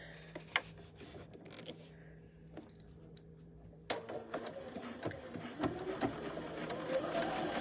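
Domestic sewing machine stitching a quarter-inch seam joining pink print and solid green fabric strips, first quiet and sparse, then a busier, louder run of rapid mechanical stitching.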